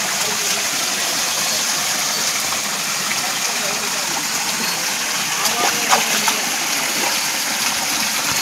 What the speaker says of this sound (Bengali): এই বাড়ির তলা দিয়ে জল বেরোচ্ছে, কোনো কারণে জলটা আটকানো যাচ্ছে না।